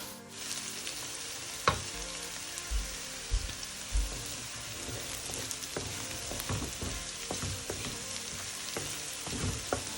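Potatoes fry in a pan with a dense, steady sizzle and crackle, broken by occasional stirring knocks and scrapes, close and moderately quiet.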